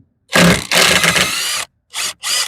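A power drill backs bolts out of a RZR skid plate, a loud, close whir in one long burst followed by two short bursts.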